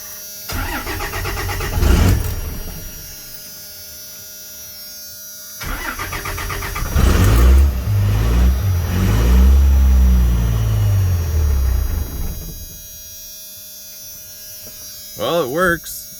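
A 12-valve Cummins diesel truck engine cranks and fires, then runs with a loud, rough rumble that settles into a steady idle before shutting off, with a brief voice near the end.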